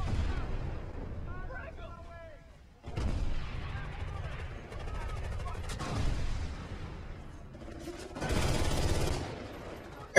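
An M249 machine gun fires in the Medal of Honor video game, producing heavy, booming bursts of automatic gunfire that come in several loud waves with short gaps between them, and a voice speaks in places.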